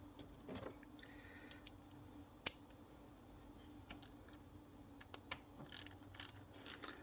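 An Audi fuel injector stud is threaded into its hole, producing faint, sparse metallic clicks and ticks that grow into a quick cluster of small ratcheting taps near the end, with no talking.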